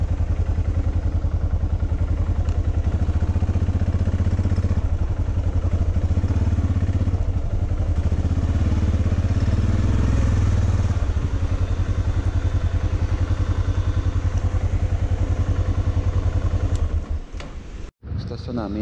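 Yamaha XT660R motorcycle engine running steadily and loud with a low, constant thrum for most of the stretch, then cutting off abruptly near the end.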